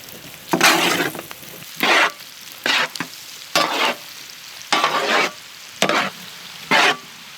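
Mushrooms and chicken gizzards sizzle in a pan while being stirred in seven short bursts of scraping and frying, loud and close, with pauses between.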